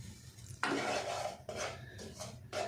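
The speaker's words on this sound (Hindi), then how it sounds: "सबसे पहले हमने आटे को ड्राई रोस्ट कर लेना है, हल्की आंच पे, बिल्कुल स्लो हीट पे" Wheat flour dry roasts in a kadai on low heat as a spoon scrapes and stirs it in bursts, rasping strokes against the metal with short pauses between, close and fairly quiet.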